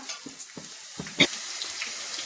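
Green chili and onion drop into hot oil, with a few scattered pops and crackles that settle into a steady, moderately loud sizzle. No one speaks.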